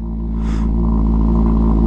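A Ducati Panigale SP2 motorcycle engine just started, a loud, close, deep-toned idle with a steady throbbing rumble that builds slightly as it revs.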